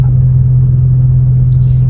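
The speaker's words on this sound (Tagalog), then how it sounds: "Ayan yung sa airsus yung tumutunog. Oo, nagkakarga siya ng hangin." An aftermarket air suspension compressor in a Honda Jazz or Civic FD hums loudly and steadily as it fills its air tank, a constant close drone with faint voices.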